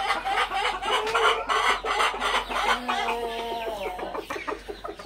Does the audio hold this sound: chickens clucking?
yes